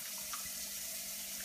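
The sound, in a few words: warm water running from a tap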